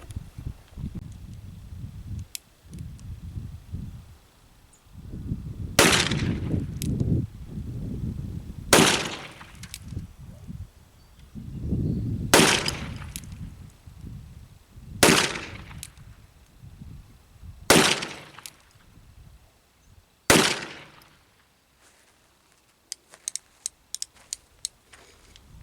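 Six sharp gunshots from an Uberti 1861 Navy cap-and-ball revolver firing .380 round ball, shot offhand at 10 yards outdoors, spaced a few seconds apart, loud and close, with faint clicks of cocking near the end.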